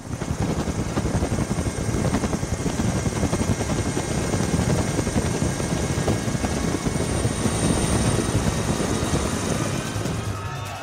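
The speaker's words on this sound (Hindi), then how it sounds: "सड़क पर कांवड़ियों का रेल और हेलीकॉप्टर से पुष्प वर्षा।" A helicopter flies low over a road of Kanwar pilgrims during the Sawan pilgrimage, showering flowers; its steady, loud rotor chop and engine whine fill the scene continuously without letup, with no talk heard.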